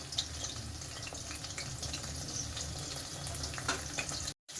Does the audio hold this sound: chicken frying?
yes